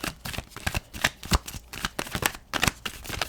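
Tarot cards being shuffled and drawn during a reading, a dense run of crisp riffling snaps and papery flicks close by, with no talking.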